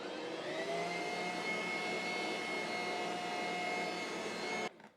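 An electric mixer whirs steadily under a cover while blending confectioners' sugar, a loud continuous motor drone with a faint whine that cuts off abruptly near the end, with no voices.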